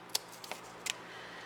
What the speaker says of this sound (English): we're just going to trim the edges